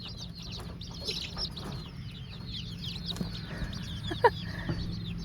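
Several chickens and young chicks cluck and peep continuously on a farm, with high chirps layered over low-pitched background hum and one brief louder squawk near the end.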